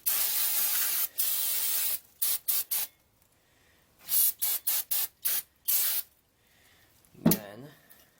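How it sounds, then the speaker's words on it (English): Brake cleaner sprayed onto the seized brakes of a barn-find Triumph Spitfire, heard as a series of close aerosol hisses, two long bursts followed by short quick spurts, with a brief thump near the end. "I'll use brake clean."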